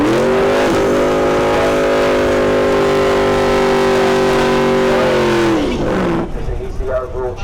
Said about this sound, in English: He's the overall champion with that 87 Ford Mustang. 347 cubic inches of small block Ford V8 with a supercharger, 5-speed manual transmission.